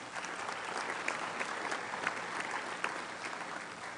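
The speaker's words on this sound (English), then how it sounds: "I think we deserve a little applause there." An audience at a Rotary Club of Denver meeting breaks into steady, dense applause, many hands clapping continuously at moderate distance with no speech over it.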